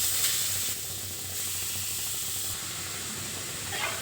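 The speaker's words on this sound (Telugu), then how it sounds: "ఇందులో తురిమిన ఈ గాజర్ని వేసుకొని వేయించుకుంటాను" Grated carrot frying in a kadai for gajar halwa gives a steady, close hiss and sizzle that holds at an even level throughout, with no voices.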